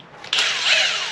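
A 24 volt power tool whines up abruptly on the mount bolts of a rusty 1974 Honda CB360 motorcycle, a close, loud, steady high-pitched drill whir that holds after a short quiet start.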